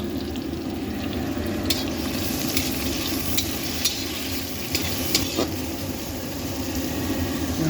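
Onion fries and gets stirred in a large khichuri pot on an electric heater, a constant close sizzle with light, intermittent spoon scrapes and taps, and no voices.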